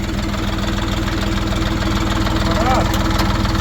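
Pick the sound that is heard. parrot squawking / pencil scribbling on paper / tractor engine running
tractor engine running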